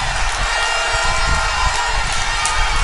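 A match crowd cheers and surges onto the field, a dense continuous roar of many voices at a steady, loud level with no single voice standing out.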